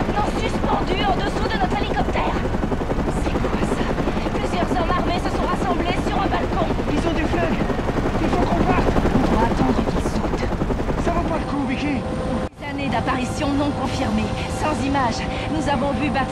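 A helicopter in Batman Arkham Origins hovers close with a loud, steady rotor and engine roar that fills the whole stretch, a voice talking over it, then drops out briefly before resuming with a slightly changed tone.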